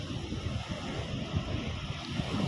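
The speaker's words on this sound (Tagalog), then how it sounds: "Malaki pa rin ang swell." Ocean swell rolling in at a fishing spot at Avoca: a steady, close wash of surf mixed with gusty wind buffeting the microphone, continuous throughout with no voices.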